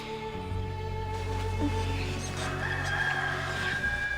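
A rooster crows in a film scene, a drawn-out call rising over steady low background sound, fairly close and alone with no talk.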